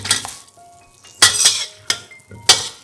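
Lemongrass, star anise, ginger and turmeric stir-fried in vegan butter with sesame oil, heard as a few sharp metal scrapes and clinks of a utensil against the pan over a soft, steady sizzle, with no voices.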